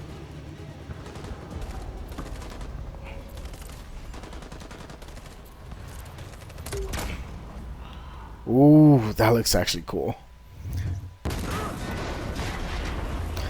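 Rocket launcher explosions and gunfire in the video game Detroit: Become Human, a dense run of booms and rapid shots rumbling under a player's casual commentary, with a louder burst near the end.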